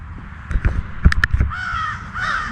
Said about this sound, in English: Our crows over here just yapping away.